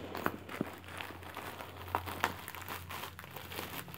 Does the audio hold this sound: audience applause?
no